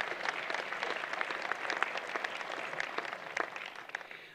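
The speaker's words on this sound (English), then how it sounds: "I think applause would be suitable," Steady applause from an audience at a university convocation ceremony, honoring the chair of the board of governors; dense overlapping claps at even loudness throughout, fading slightly at the end.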